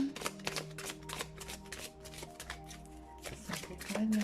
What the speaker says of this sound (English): let's start with the shuffling.